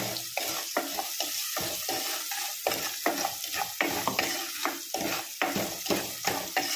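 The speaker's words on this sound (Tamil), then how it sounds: "வெங்காயம் கொஞ்சம் வதங்கட்டும்" Onions sauté in a pan with amla and salt, a steady sizzle broken by repeated scraping stirs of a spoon against the pan, close and fairly quiet.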